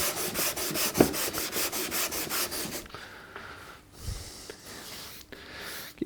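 Sandpaper rubs rhythmically across a small wooden box lid in quick, regular back-and-forth strokes, then gives way to slower, irregular scuffing and brushing close by.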